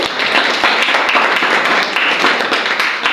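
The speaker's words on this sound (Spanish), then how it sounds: "Démosles un aplauso a ellos" A church congregation applauds the altar servers, a dense, steady patter of many hands that holds at an even loudness throughout.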